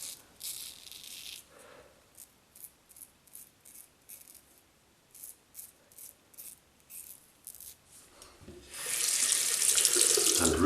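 A double-edged safety razor is rinsed in a sink: water runs from a tap at the start, then a series of short metallic rattles and taps follow, and the tap gushes loudly again near the end.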